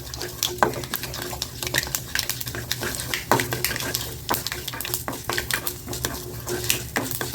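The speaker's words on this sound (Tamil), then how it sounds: "நல்லா உளுந்து கொஞ்சம் சவக்கணும்" Black urad dal frying in a pan for a black chutney, with a steady low sizzle under repeated scraping and clinking as a spoon stirs it against the metal pan.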